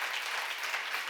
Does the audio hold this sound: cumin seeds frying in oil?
no